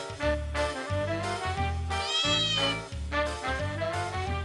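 Cats meow repeatedly inside a ward of Sheikh Zayed Hospital in Lahore. Their drawn-out, overlapping cries sit over a steady low hum, with no one speaking.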